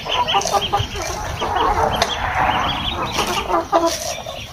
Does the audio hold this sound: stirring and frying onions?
no